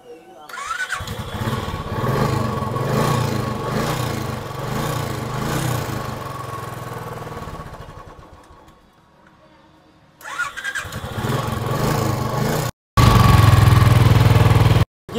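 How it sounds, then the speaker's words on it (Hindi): A Royal Enfield Classic 350 motorcycle, being checked for an electrical current fault, cranks and starts, then idles with a steady thumping note, cutting out briefly before running loud again; someone talks at the start. "तो चलिए बाइक को अभी स्टार्ट करेंगे,"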